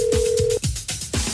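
A telephone ring plays as a voicemail sound bite for a podcast: a loud, steady electronic ring tone, followed by rapid repeated trilling pulses, close and clear.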